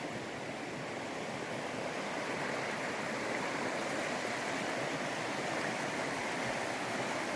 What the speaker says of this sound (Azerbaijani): Fındıq bağının yan tarafından gördüğünüz akar çay keçir.